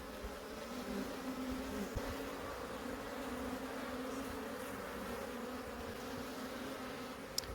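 Honey bees buzzing around open hive boxes during a first inspection, a steady, close, dense drone that continues throughout with no voices.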